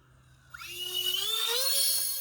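A small servo whines as it deploys the takeoff flaps on an E-flite Citation Longitude UMX RC plane, a rising electric whir that starts abruptly and holds steady, close and clear with no talk.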